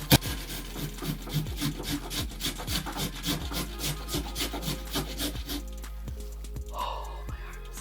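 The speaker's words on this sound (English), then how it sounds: "I dare say this is like 2 cups of grated carrot." Carrots grated by hand for a sourdough carrot cake, a brisk steady rasping rhythm of strokes against the grater, close and fairly quiet, fading out near the end.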